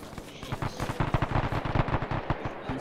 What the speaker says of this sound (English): You could stop firing now.